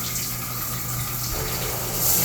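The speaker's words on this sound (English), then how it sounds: "And in this shower, you have a rain shower and a handheld shower." A rain shower and a handheld shower run together in a hotel room shower, giving a steady, close, even rush of falling water that swells slightly at the end.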